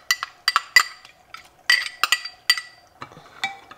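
A spoon clinks repeatedly against a bowl while stirring a sugar, salt and crushed garlic marinade in cold water, sharp bright taps in quick irregular bursts, close and clear with no talk.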